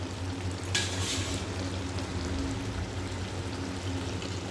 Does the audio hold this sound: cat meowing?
no